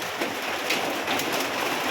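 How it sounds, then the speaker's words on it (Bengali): Steady, dense rain hissing down close by, an even wash of drops with no voices. "রোদ এবং খরার মধ্যে আল্লাহর রহমতের বৃষ্টি হচ্ছে আমাদের পাগলা মোড়ে"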